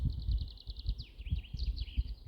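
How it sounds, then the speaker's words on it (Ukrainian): A nightingale sings a rapid series of high, sweet notes, first in even repeated pulses, then sliding, warbling phrases, fairly close over a low rumbling background in a spring forest. "Чуєте, як соловейко співає?"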